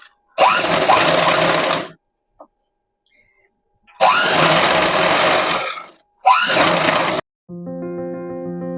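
A sewing machine stitches fabric for a frilled puff sleeve in three bursts of fast whirring, separated by pauses, with a steady electronic tone at the end.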